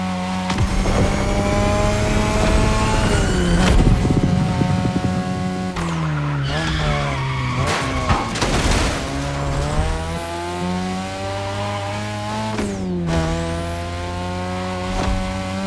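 A 3rd-gen 2002 Mazda RX-7 rotary racing in a video game, its engine revving up and down through gear changes with loud tire squeals and skids, close and continuous.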